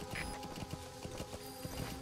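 A horse in the Metal Gear Solid V video game clip-clops along with quick, steady hoofbeats, faint and even, against a constant background hum, with no talk.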